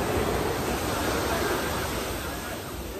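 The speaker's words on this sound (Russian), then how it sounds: "Смотрите, какая волна." Ocean waves breaking on a Bali shore, a steady, loud, broadband wash of surf that fills the whole stretch with little change, close by and without clear pauses.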